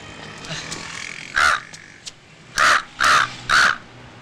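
A voice imitates a crow, giving one harsh caw followed by three rapid caws in a comic scene, loud and close with brief throat noises between them.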